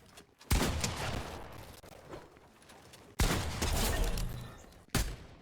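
Gunfire in the video game Fortnite, with practice shots taken at an enemy. Three sharp bursts ring out at spaced intervals, each trailing off quickly, fairly faint overall and with no voices.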